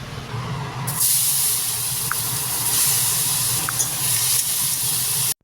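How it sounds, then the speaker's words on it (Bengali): Prawns dropped into a hot pan hit with a sudden loud hiss about a second in, then fry in a steady close sizzle that continues to the end, with no talking. "এদিকে চিংড়ি মাছগুলো ভাজতে দিলাম"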